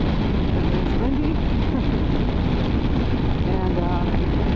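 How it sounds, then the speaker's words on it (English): Strong wind in hot New Mexico desert country roars steadily across the microphone, kicking up dust in a loud, unbroken rush with no voices. "I think that is from the wind, because it's windy."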